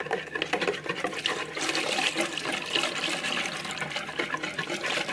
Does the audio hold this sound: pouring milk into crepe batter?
yes